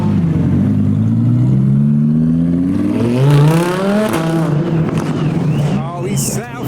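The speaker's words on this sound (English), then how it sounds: "We've got Audi R8 revving just around the corner" An Audi R8 revs up loudly around a corner after an underground car show, its engine pitch climbing and falling through several sharp sweeps as it passes close, with people talking over it.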